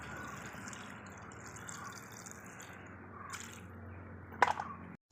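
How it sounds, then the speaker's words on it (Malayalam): Water poured into a cooking pot, likely a pressure cooker, for boiling meat for boti fry, a soft continuous liquid wash with a brief sharp clink near the end, faint and without talk. "വേവാനുള്ള വെള്ളം കൂടി ഒഴിച്ചു കൊടുക്കാം"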